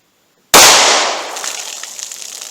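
.38 Special Hornady Critical Defense round fired from a short barrel: a single sharp, loud gunshot cracks after a moment of silence, followed by a ringing, fading echo with faint splashing and rattling.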